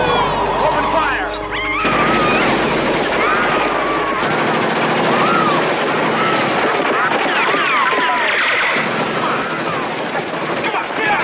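Gunfire in an action scene from the 1980s TV series Blue Thunder, with loud, dense bursts crackling continuously over a rumbling backdrop while voices shout through it.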